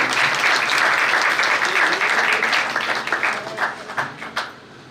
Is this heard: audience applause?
yes